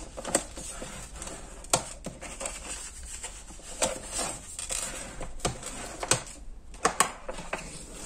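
Paper folded and creased accordion-style for a handmade staircase card, with sharp intermittent snaps and rubbing crinkles at irregular intervals, close and quiet with no talk.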